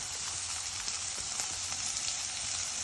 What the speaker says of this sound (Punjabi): ਇੱਕ ਦੋ ਮਿੰਟ ਇਹਨਾਂ ਨੂੰ ਭੁੰਨਣ ਤੋਂ ਬਾਅਦ ਇੱਕ ਚਮਚਾ ਆਪਾਂ ਪਾ ਦੇਣਾ ਲਸਣ ਅਦਰਕ ਦਾ ਪੇਸਟ